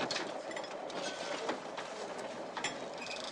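A passenger train runs on rails at night, a steady rushing rumble with rhythmic clattering and occasional metallic clicks, close and continuous with no talk.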